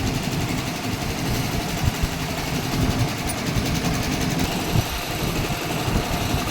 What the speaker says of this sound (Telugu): నేను స్పీడ్ కూడా మీరు ఇక్కడ చూడొచ్చు, 800లో స్పీడ్ పెట్టే నేను మిషన్ అన్నది రన్ చేస్తానండి.